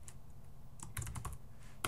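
Someone types C# code on a computer keyboard, with a quick burst of close, crisp keystrokes after a brief quiet start and a final louder tap at the end.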